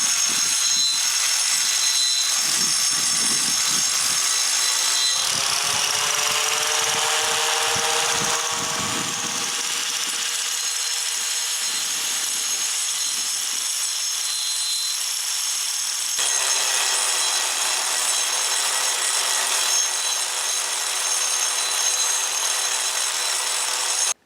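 A power grinder works granite, cutting a curved edge close up. A harsh, steady whine with scraping grit runs continuously, and its pitch shifts as the load changes.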